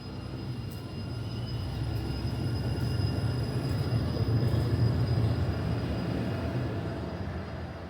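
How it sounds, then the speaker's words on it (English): A TTC subway train pulls into a Toronto station, a deep rumbling roar that swells as it nears and then eases, with no voices. "The next train to Finch West Station will be arriving shortly."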